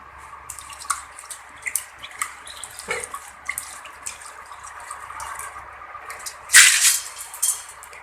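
Ration rice swirled in water in a vessel to settle out stones: continuous sloshing and trickling water with small splashes, one louder splash near the end, close and steady.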